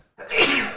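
A single sharp sneeze bursts out after a short silence, close and fairly loud, with a quick intake followed by a breathy, hissing release.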